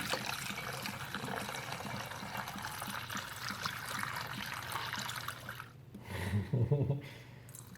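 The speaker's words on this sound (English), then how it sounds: "pour this into our jug." Warm beer wort from a home brew kit pours into a jug, a soft continuous trickle and splash close by, under a steady background wash, with a brief voice near the end.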